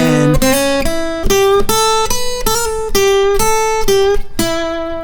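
Single-note electric guitar phrase in a soulful minor blues style, using the C position of the minor pentatonic scale, with a steady run of clearly picked notes and ringing sustain, alone and close.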